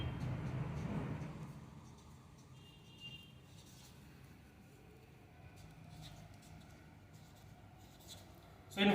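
Pen strokes on paper as an electrical wiring diagram is drawn by hand for a PVC casing-capping lamp, switch and fuse circuit, a faint, steady scratching after a brief louder opening, with no talk.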